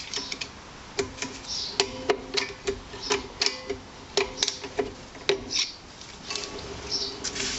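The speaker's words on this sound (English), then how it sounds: "Should be able to hear it clicking." Handbrake adjuster wheel clicking as a screwdriver turns it, a rapid series of sharp close ratcheting clicks in irregular bursts across the whole clip, with no talk.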